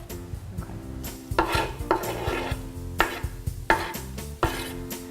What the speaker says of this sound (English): Now that the onion and garlic are sauteing